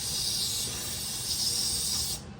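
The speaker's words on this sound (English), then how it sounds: "blow it all out with the air compressor" An air compressor nozzle blasts debris out of dirt bike bearings for a YZ250 rebuild: one steady, loud, close hiss of compressed air that holds for about two seconds, then cuts off.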